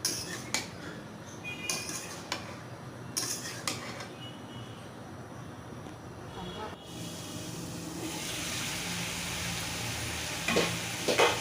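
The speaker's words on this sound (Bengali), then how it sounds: "তারপর সেটাকে ভালোভাবে নেড়ে দিব। ভালোভাবে মশলার সঙ্গে মাখাতে হবে।" Food being stirred and fried with spices in a pan for a curry, with intermittent scraping clatter early on and a broader, steadier sizzle toward the end, heard up close.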